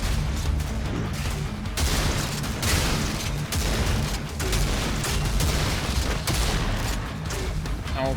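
Continuous enemy gunfire aimed at the player in the video game Gravelord, a dense, loud barrage of overlapping shots and booms that rarely lets up.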